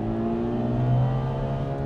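A Ferrari V12 with four-wheel drive and four-wheel steering pulls hard out of a corner, its engine note a loud, steady, rising roar of layered harmonics that swells slightly midway, with no voices over it.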